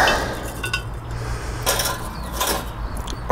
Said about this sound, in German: Dann tun wir die Kohlen hier rein.